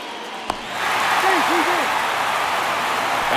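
A baseball stadium crowd in a baseball video game swells into a broad, sustained cheer after a brief sharp knock. A commentator talks over the roar.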